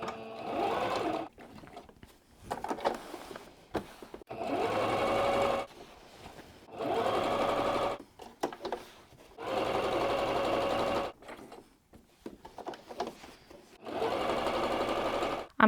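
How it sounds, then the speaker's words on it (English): A sewing machine stitches a seam around a cushion lining in repeated bursts of steady whirring, each run a second or two long with brief pauses between, close and fairly loud with no talk. "I'm going to be sewing all the way around and then just leaving the bottom here open so that we can stuff the lining"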